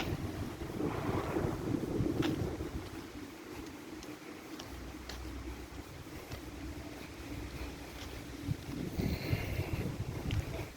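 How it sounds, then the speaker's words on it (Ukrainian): Wind blows through the residential courtyards of Sotsmisto in Zaporizhzhia, a steady rushing hiss and low rumble against the microphone that swells and eases. A few faint clicks sound, and nobody speaks. "Короче, спокій, вітер,"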